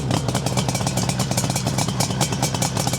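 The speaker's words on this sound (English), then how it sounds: "Starts very easily, so you can have a little listen to the engine." A 1974 Suzuki GT750 motorcycle with Delkevic expansion chambers idles smoothly, a loud, close, even two-stroke burble with a rapid steady pulse and no talking.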